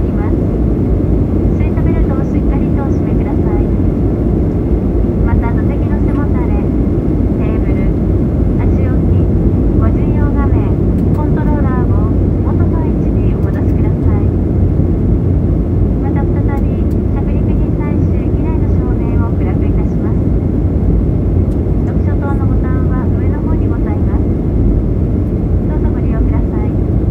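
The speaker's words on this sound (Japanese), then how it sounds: "ただいま東京国際空港羽田に着陸いたしました。" Steady, loud engine roar and rushing air fill the cabin of a Japan Airlines Boeing 737-800 as it lands at Tokyo Haneda airport, with a cabin announcement voice heard over the continuous drone.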